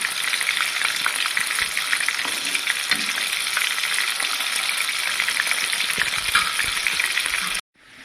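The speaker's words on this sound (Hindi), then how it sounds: "इसी तरह तमाम कोफ्तों को आप गोल्डन फ्राई कर लें।" Beef koftas frying to golden make a dense, even oil sizzle that holds steadily close up, then cuts off abruptly near the end.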